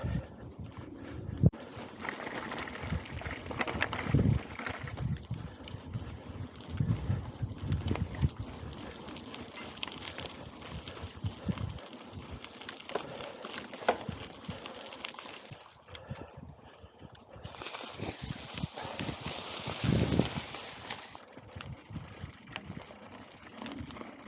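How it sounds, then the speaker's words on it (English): A Breezer Radar X Pro bicycle is ridden off pavement over rough terrain, making a steady, close rumble with wind buffeting and rattling throughout. Louder bursts come near the start and again near the end, with no talking. "So yay, first ride off the solid pavement."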